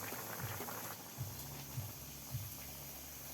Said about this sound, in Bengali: তরকারি বলক উঠে গিয়েছে